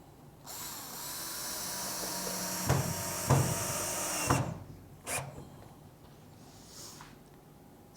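A power drill drives screws into a cedar pallet plank for pallet furniture. A sustained whirring drive runs for several seconds with a few knocks near the end, then shorter bursts follow as the drill stops. No one speaks.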